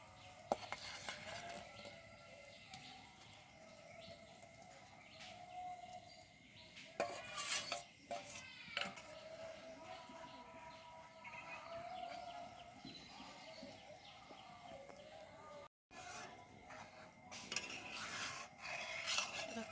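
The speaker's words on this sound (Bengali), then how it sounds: "আলুটা দিয়ে একটু নেড়ে চেড়ে নিলাম" Fried potatoes being stirred into boiled milk in a pot for potato payesh: faint, continuous scraping and clinking of a spoon against the pot, with a few louder knocks, over a low background hum and no talking.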